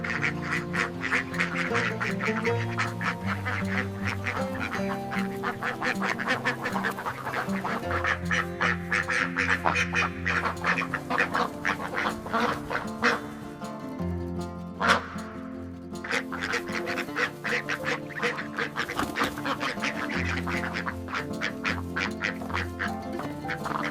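Dense, continuous quacking from a large flock of Khaki Campbell and Indian Runner ducks on a duck farm, many birds calling over one another without pause.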